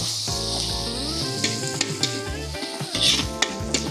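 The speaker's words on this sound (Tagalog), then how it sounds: "Gisa tayo ulit, sibuyas, bawang, luya." Tomato paste sizzles loudly in a hot pan with onion, garlic and ginger for a Filipino caldereta, frying steadily up close while a spoon stirs and clinks against the pan.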